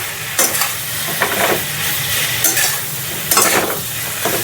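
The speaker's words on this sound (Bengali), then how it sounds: "মশলার সঙ্গে লাউটা এভাবে ভালোভাবে কষিয়ে নিতে হবে" Bottle gourd being sautéed with spices in a pan, a continuous sizzle broken by several bursts of stirring and scraping at irregular intervals, close and fairly loud.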